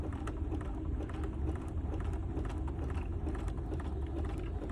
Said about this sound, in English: I'm going to lower my presser foot, and then I'm just going to sew